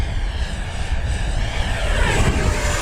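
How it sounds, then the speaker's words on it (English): Banana Hobby X-FLY T-7A 64mm electric ducted-fan RC jet making a fast full-throttle pass into the wind, a loud, steady whooshing roar that swells slightly as it goes by, with wind buffeting throughout. "All right, I'm going to come by fast again."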